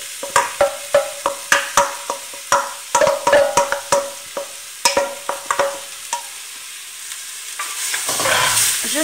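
Chopped onion and celery cook in butter in a pot while a utensil knocks and scrapes in quick repeated bursts over a quiet sizzle, near and clear, with no talking, then a louder hiss swells at the end.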